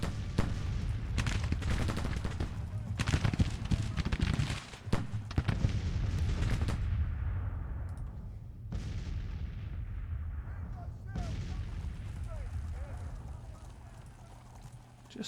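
Counter-battery artillery fire in the Confederate campaign of the strategy game Grand Tactician: dense, rumbling cannon booms overlapping in rapid volleys, then sparser, heavy distant blasts fading away.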